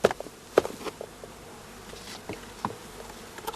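Honeybees buzzing around a shook swarm at a hive, a steady close insect drone with a few sharp knocks and bumps from handling, no voices.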